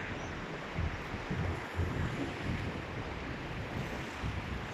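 Sea waves at night wash onto a rocky shore in a continuous low rumbling roar, mixed with wind buffeting the microphone, with no voices.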